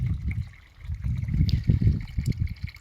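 Natural mountain spring water trickling out of a pipe from a pit in the hills, a close, continuous gurgling dribble with uneven splashy pulses that swell toward the end.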